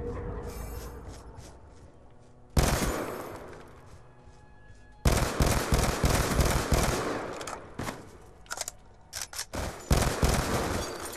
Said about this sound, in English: I hate those burst shots